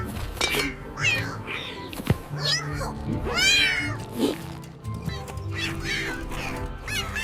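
A kitten in a children's animal cartoon story meows repeatedly in rising and falling cries, several distinct calls close together with a voice speaking in between.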